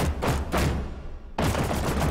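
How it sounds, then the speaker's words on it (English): Bursts of gunfire crackle loudly in two dense volleys, with a short quieter gap between them and no voices. "Oh my God, is that gunshots?"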